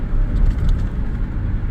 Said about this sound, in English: Here we are cruising in second, sitting about 1900 RPM.